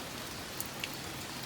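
Steady rain falls in a soft, even hiss, fairly quiet and constant, with a couple of faint drips standing out briefly.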